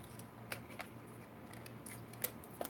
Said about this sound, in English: just cut them up